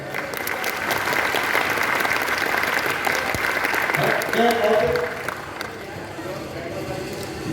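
Loud audience applause fills a stand-up comedy show, a thick wash of many clapping hands sustained for several seconds, then fading as a voice comes through near the end.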